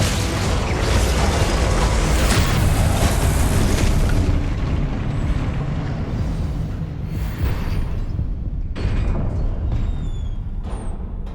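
Confringo, Incendio and Glacius spell blasts in Hogwarts Legacy roar as a loud, continuous wash of booming, crackling energy with mechanical rumbles, fading slightly and then surging again.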